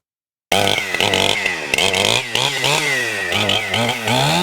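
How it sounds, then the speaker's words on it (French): A chainsaw starts up loud and close, its engine revving and whining steadily as it cuts down 60-year-old cypress trees, with no voices. "Quelques coups de tronçonneuse auront suffi pour abattre ces cyprès âgés de 60 ans."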